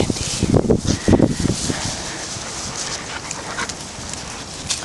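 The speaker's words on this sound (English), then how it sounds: "Come on, dirty dog." A dirty dog at Tyler State pants and whimpers close by, with a burst of rustling and breathy noise early on, then softer, steady panting for the rest.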